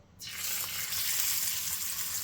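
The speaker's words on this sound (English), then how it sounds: "I just want to sizzle them a little bit." Steady, close sizzling of Greek-style lamb frying in hot oil in a pan, a bright crackling hiss that starts abruptly and continues evenly.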